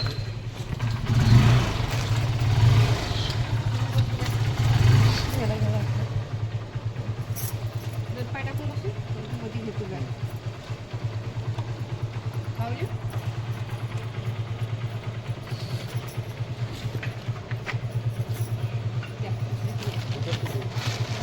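A motorbike runs steadily on a village road with a continuous low engine drone throughout, while voices talk over it near the start.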